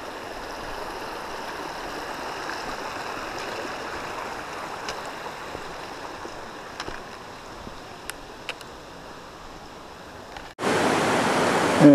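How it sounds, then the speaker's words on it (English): Johns Brook, a mountain stream in the Adirondacks, rushes with a steady broadband roar for most of the stretch, then swells abruptly louder near the end as the recorder draws closer to the flowing water. "And here's the Johns Brook"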